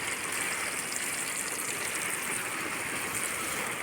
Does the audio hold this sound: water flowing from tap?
yes